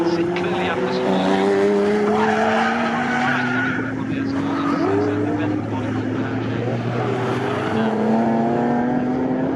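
Saloon race cars, including an Escort, lap Snetterton circuit, their engines droning and shifting pitch with tire squeal as they pass, while a commentator talks over the racing.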